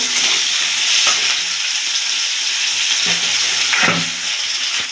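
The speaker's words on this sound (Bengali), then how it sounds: "ক্যাপসিকামগুলো একটু নাড়াচাড়া দিয়ে হালকা করে ভেজে নেব" Steady, close sizzling of capsicum frying in a pan, with a few louder bursts as the pieces are stirred.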